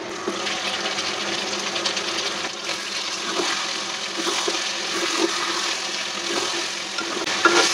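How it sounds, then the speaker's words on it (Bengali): Water is poured into a pot of homemade deshi chicken curry with potatoes, a steady, loud rushing splash that continues for several seconds. "এখন আমরা জল দিয়ে দেবো"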